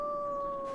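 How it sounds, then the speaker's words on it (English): A wolf howling in the snowy survival game The Long Dark, one sustained mournful tone holding steady under faint wind, clear and alone for a short moment. "I hear a wolf."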